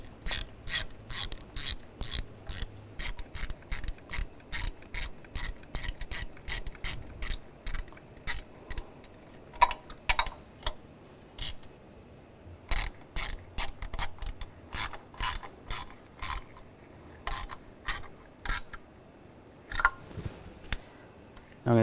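Ratchet wrench tightening bolts on the thermostat housing of a 2001–2006 BMW 325xi, rapid close clicking in repeated bursts separated by brief pauses, quiet and alone.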